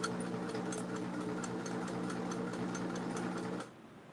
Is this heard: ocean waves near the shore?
no